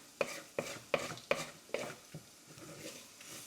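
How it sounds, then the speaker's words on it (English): A spoon stirs a flour roux in a pot and scrapes browned bits off the bottom, five sharp close scraping strokes in a steady rhythm, then softer scraping and light sizzling. "Trying to kind of scrape up some of those bits off the bottom here."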